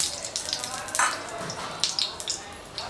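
Oil sizzles in a hot pan while an egg chicken roll is made street style, a close bright crackle and spatter with a few sharper pops.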